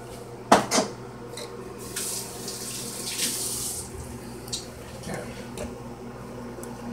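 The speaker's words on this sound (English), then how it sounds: "me wash my hands." Hands being washed under a running kitchen tap after fried chicken is set aside to marinate, a steady close hiss of water with a couple of knocks at the start and faint shifting splashes throughout.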